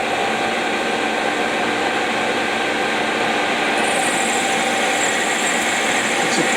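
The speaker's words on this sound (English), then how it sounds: "we're going to put a cut on, a reasonably heavy cut for a little chuck" A small lathe with a two-inch three-jaw chuck and a carbide tool takes a reasonably heavy facing cut, giving a loud, continuous machining drone with a steady motor hum and a higher cutting whine joining partway through.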